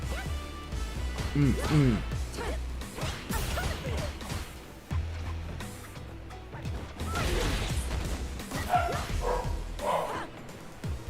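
Dogs barking repeatedly at a house, loud and close, mixed over a busy bed of fighting-game sound effects and music, with someone talking at times.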